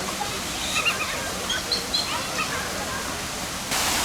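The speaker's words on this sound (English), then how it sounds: "I really like the enclosure here with the waterfalls for the zoo's Galapagos tortoises" Steady broadband rush of water from a waterfall in the Galapagos tortoise enclosure at Cincinnati Zoo, continuous and moderately loud, with faint squeaky high calls drifting over it.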